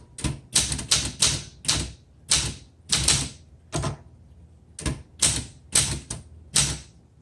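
A 1974 Olympia SM8 manual typewriter clacks in quick bursts of keystrokes, close and loud, with short pauses between runs of typing.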